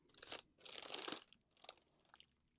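Crunchy Buffalo Cheetos are bitten and chewed close up, with three or four loud crisp crunching bursts separated by short pauses.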